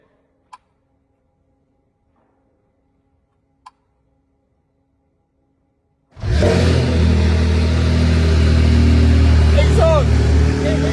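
Ferrari 296 V6 hybrid engine fires up abruptly after a quiet stretch with two faint clicks, then runs loudly and steadily at close range with a deep rumble through to the end.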